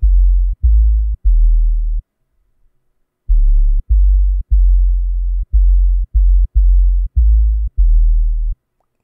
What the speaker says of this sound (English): Here we got no other than the 808 itself, the legendary cool sub